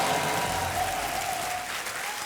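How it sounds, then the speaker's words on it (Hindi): A studio audience on a television quiz show applauds a winning contestant, a dense, steady wash of clapping with a faint tonal hum running underneath. "तालियां जोर से बजे इनके लिए"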